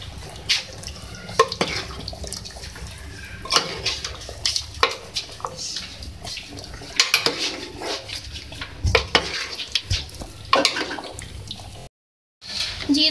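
Chicken with chopped fresh coriander is stirred in a pan, giving scrapes and clinks of utensil on metal in irregular bursts, with faint background sizzle and a brief silent gap near the end.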